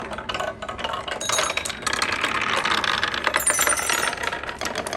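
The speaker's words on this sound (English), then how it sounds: "inside my barn roof is a xylophone, and it's just got little keys on it that the marbles bounce off and go down" Marbles rolling through a marble machine and bouncing off the small keys of a xylophone built inside a barn-shaped roof, giving a busy stream of light clicks, rattles and bright metallic pings with no talking.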